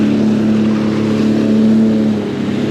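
Sea-Doo FishPro Sport 170 jet ski engine held at high throttle on the water, a loud, steady droning whine close by that eases slightly near the end, with no talk.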